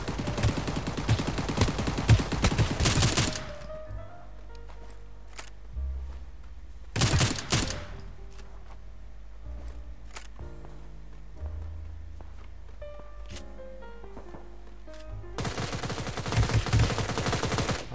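Gunfire in the shooter game Knives Out: loud rattling bursts of rapid automatic fire at the start, a short burst midway and another long burst at the end, with quieter tonal game sounds and clicks between them.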